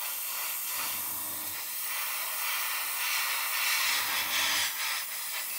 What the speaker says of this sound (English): note the angle of the airbrush is away from the tape